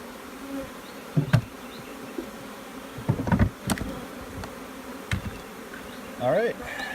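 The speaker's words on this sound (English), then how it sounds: "Transferring bees from a swarm trap into a 10 frame box." A honeybee swarm is moved from a swarm trap into a 10-frame hive box, giving a constant buzzing hum of many bees close by, with occasional knocks and handling noises over it.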